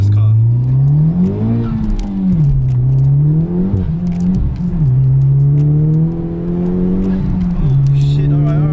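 A fast car pulls hard, its engine note climbing steadily in pitch through the gears with brief dips at shifts, loud and close, with people talking and exclaiming over it.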